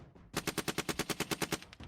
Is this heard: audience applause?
no